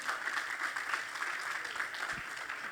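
Congregation in a church applauding, a steady wash of many hands clapping at moderate distance, fairly faint and continuous without speech.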